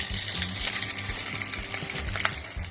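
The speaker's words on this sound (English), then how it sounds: "You can hear that sizzle." Fatty salmon sears in a dry pan with no oil, giving a close, steady crackling sizzle with small pops throughout, heard alone without any talk.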